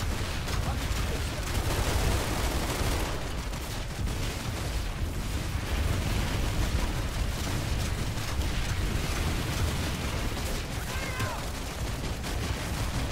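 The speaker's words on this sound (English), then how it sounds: "If we can just keep hitting it, if we can just keep fire on it." Dense, continuous gunfire and heavy explosive blasts from a Planetside 2 battle rage loud and unbroken throughout, a constant close-range barrage with no pauses.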